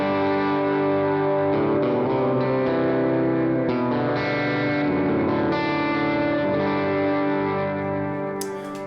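Worship-style electric guitar ringing through a pedalboard with dotted-eighth delay, each chord echoing in rhythmic repeats that wash into a continuous ambient swell, loud and close with no talking.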